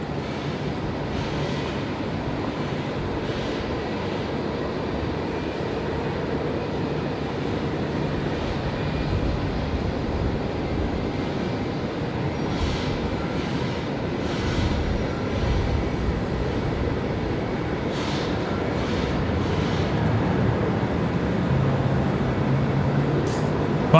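An aircraft arrives at Brisbane Airport at night with a continuous, broad engine roar that holds steady and swells slightly toward the end, with no voices over it.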